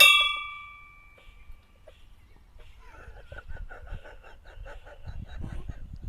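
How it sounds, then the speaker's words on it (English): A single bright bell ding rings out at the start and fades away, followed by quieter rhythmic chirping and rustling. "ring the notification bell"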